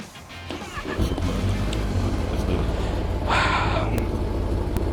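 A 2025 Kawasaki ZX10R with its stock exhaust idles and revs with a deep, bassy rumble, close and loud throughout, with a brief rise in intensity toward the end.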